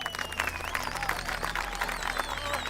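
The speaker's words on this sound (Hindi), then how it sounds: "ताली बजा रहे हैं लोग" An audience at a political rally speech in a village claps in a steady, dense burst, with whistle-like tones riding above the applause.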